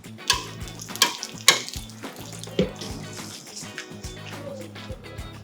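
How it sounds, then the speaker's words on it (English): Boiled casarecce pasta tossed into a pan of broccoli, spinach and basil puree, with several sharp knocks of a utensil on the pan over a soft, wet sizzle. "To finish the dish, we're now adding the boiled pasta."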